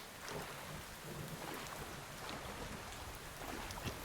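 Thunderstorm in the Len's Island video game: steady rain hiss with low rumbling thunder rolling underneath, faint and continuous, no voices.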